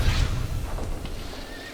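A horse in a video game neighs loudly at the start, a sharp whinny that trails off over a second or so, with faint hoof clip-clop and game ambience beneath.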